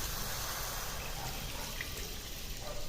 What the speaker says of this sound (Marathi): आणि याच्यामध्ये पाणी टाकून घ्यायचं